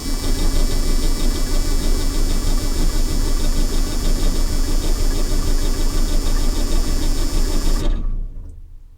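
An old John Deere combine engine is cranked over on a very cold morning, a loud steady rhythmic churning of starter and engine that runs for about eight seconds and then cuts off abruptly into quiet.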